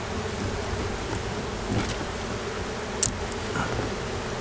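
A honey bee colony buzzes while a swarm trap holding a fallen colony is moved, a dense, continuous hum of many bees close by, with a few soft rustles and light knocks.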